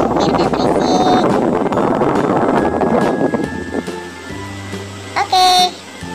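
An electric fan from a home fan collection runs noisily with a whooshing, rattly drone that then winds down and stops, followed by clicks and brief tonal whirs while a person talks.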